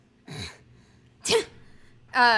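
A sharp sneeze bursts out near the end, loud and close, after two shorter breathy vocal bursts; the rest is near silence.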